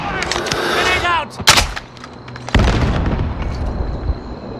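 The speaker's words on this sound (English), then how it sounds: "Grenade out!" Call of Duty Warzone gameplay with a sharp burst of gunfire followed by a loud grenade explosion, then ongoing booming blasts and rattling game noise, with a voice talking early on.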